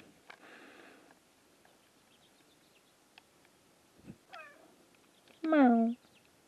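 A cat gives a few short chirping meows, then one loud drawn-out meow near the end, with faint rustling and a soft thump between calls in a quiet room.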